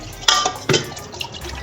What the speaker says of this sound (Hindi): अब पानी डालेंगे, अब मुनासिब थोड़ा सा पानी डाल लेंगे